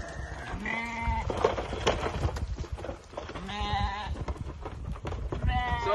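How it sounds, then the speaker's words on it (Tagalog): Pet sheep on an organic farm bleat repeatedly, with several wavering, nasal calls rising over a busy, noisy outdoor background of rustling and shuffling livestock. "nandito katabi natin ang mga napakakukulit nating mga alagang mga tupa"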